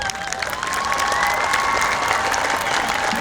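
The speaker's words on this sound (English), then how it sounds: "please rise for a round of applause" Graduation audience at Everett High School applauding honor medal recipients, a steady, dense wash of clapping from a large crowd that holds at full strength throughout, with faint cheers mixed in.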